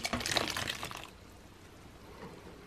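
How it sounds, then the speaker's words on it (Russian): A short burst of cold water pouring splashes into a container, then stops, leaving a faint trickle and quiet room noise. "Наливаем холодную воду"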